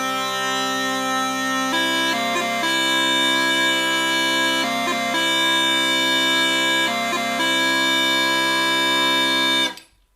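C small pipes, a Scottish bagpipe, sound a steady drone with a sustained melody note, broken three times by a slowed grip embellishment that drops briefly to low G before returning to C, loud and alone, stopping abruptly at the end.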